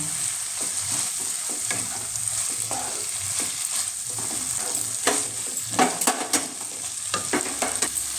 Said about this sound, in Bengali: আমি এবার আদা রসুনের পেস্টটা ভালো করে কষিয়ে নিচ্ছি।